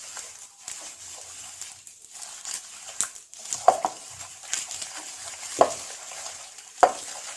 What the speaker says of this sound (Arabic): ندخلو هاد 100 غرام ديال السنيده في الزبده مزيان